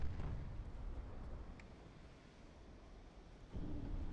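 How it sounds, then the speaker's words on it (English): Torpedo striking the battleship Repulse in the naval game Ultimate Admiral Dreadnoughts, set in 1940: a deep, rumbling blast that fades to a low roar, then a second heavy boom swells near the end, all without speech. "Torpedo hit the Repulse."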